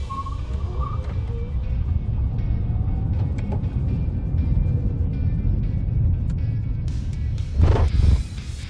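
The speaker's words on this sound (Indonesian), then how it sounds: "Sekarang kita akan coba berakselerasi dengan mode normal ya" Toyota bZ4X electric car accelerating in normal mode, a steady low road and motor hum heard from inside the cabin that swells briefly near the end with a rushing burst.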